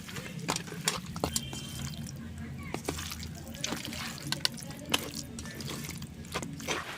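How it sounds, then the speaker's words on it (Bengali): Pumpkin stalks being washed under running water in a kitchen, a steady trickle and splash with intermittent clinks and handling knocks, fairly close. "ডাঁটাটাও এখানে ভালো করে ছাড়িয়ে জল দিয়ে ধুয়ে নিচ্ছি"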